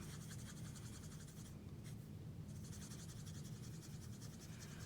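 An ink marker or blending tool scratches back and forth across card paper to soak it with ink. The strokes are soft, close and quick, with a brief pause in the middle.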